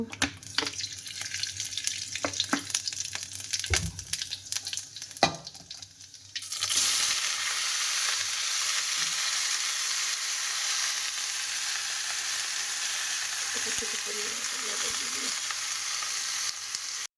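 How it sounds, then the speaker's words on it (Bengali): Whole spices tempering in hot oil in a wok burst into a loud, steady sizzle partway through, after a few scattered clatters and clinks of kitchen handling; no one speaks. "কড়াইতে একটু ফোড়ন দিয়ে দিলাম।"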